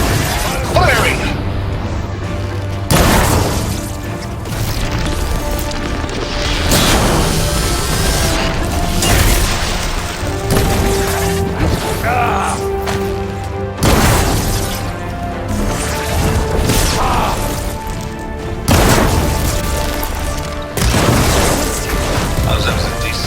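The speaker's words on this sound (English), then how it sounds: "Firing!" Weapon fire and heavy explosions in the video game Horizon Forbidden West, repeated loud booming bursts every few seconds over a dense music and combat bed, with voices speaking at times.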